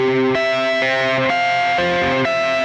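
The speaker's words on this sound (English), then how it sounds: "To the humbucker sound" Electric guitar switched to its humbucker pickup in neck position, with a compressed, high-gain distorted tone; sustained chords ring out alone and change a few times across the stretch.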